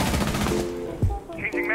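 Rapid bursts of SMG-11 fire in a tactical shooter, a quick chatter of shots early on, then scattered game sounds and tones, with a voice talking over the action.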